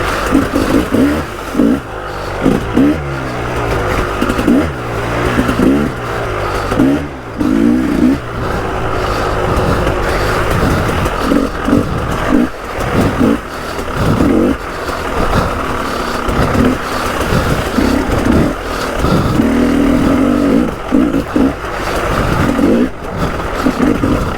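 A KTM 300 EXC two-stroke dirt bike revs hard during a ride, its engine rising and falling in repeated surges with brief throttle dips, loud and close throughout.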